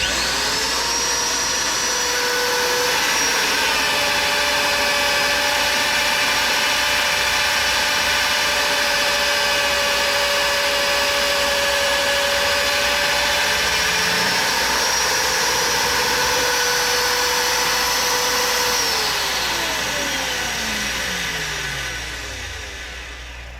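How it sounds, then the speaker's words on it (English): A loud magnetic drill whines steadily, its motor pitch dropping as it bites into metal for about fifteen seconds, then winding down at the end. "I did buy this drill, this magnet drill"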